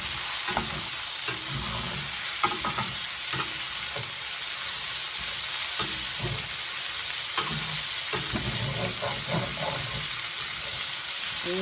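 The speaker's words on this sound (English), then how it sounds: "Stir that around a little bit." Rice with Rotel tomatoes and link sausage frying in a pan, a loud continuous sizzle with repeated scraping stirs of a utensil against the pan.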